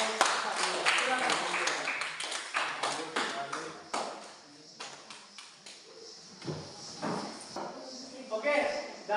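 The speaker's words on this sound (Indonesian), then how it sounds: "kita berikan tepuk tangan untuk kelompok 1" A classroom audience claps for a presenting group, a burst of uneven hand claps at close range that thins out, with voices talking over and between them.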